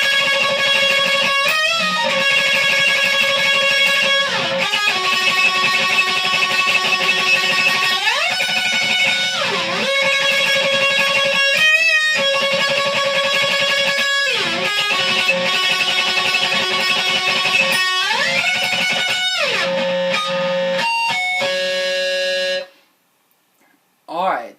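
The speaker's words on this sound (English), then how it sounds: "we have that crazy solo." Distorted electric guitar plays the fast, tremolo-picked solo from a song, loud and continuous with sustained bent notes over rhythm guitar, cutting off abruptly near the end.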